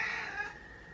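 A single drawn-out cat meow, close and fairly soft, fading into quiet room tone.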